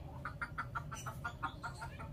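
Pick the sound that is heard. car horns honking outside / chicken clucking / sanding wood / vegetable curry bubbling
chicken clucking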